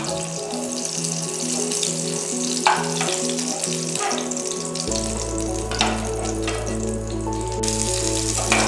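Pieces of chowmein ingredients frying in hot oil, a steady close sizzle with scattered crackles and spoon scrapes, while a low electronic hum and soft music run throughout; no one speaks.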